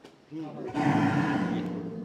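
A low moo from a Gir breed cow swells and holds for over a second, fairly close, against a murky outdoor background at a dairy farm.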